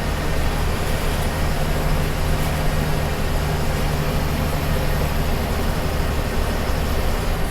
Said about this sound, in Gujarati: ભાઈ ટ્રેનની ને બસની રેસ લાગી છે